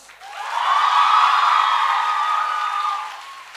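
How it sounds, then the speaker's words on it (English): A loud crowd roar with sustained cheering and whooping tones for the production team of a school stage staging of The Great Gatsby, swelling quickly, holding, then fading away. "Can we have a louder round of applause?"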